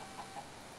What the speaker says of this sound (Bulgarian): И това беше една кокошка.